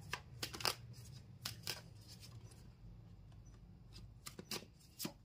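Tarot cards being handled and shuffled during a reading, faint scattered flicks and soft rubbing taps at an irregular rhythm, quiet and close, with no talking.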